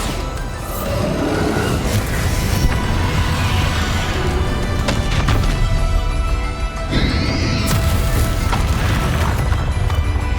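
Bombarda blasting spells explode in Hogwarts Legacy in a dense, loud barrage of booms and crashes. Mechanical clatter and bright magical whooshes layer over the sustained din throughout.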